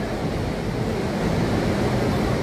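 Sea waves wash and rumble steadily, heard from a sampan-style boat at the seaside, a continuous broad surge mixed with wind noise on the microphone and no voices.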